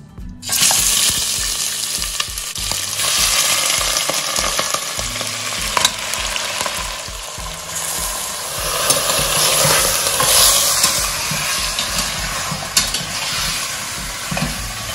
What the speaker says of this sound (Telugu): సో ఈ మటన్ అవుటర్ లేయర్ కొంచెం బ్రౌనిష్ గా అయ్యే వరకు ఫ్రై చేసుకుందాం.